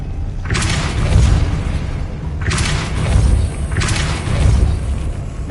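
Three booming spell impacts from Depulso in a Hogwarts video game, each a heavy, loud thud with a broad rumbling tail, spaced about 1.5 seconds apart with no talk.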